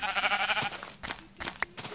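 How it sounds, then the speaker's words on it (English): Sheep in a blocky survival building game bleat in a drawn, wavering cry for the first half-second, followed by a few short clicks and soft game effects. "Oh, look, there's some sheep."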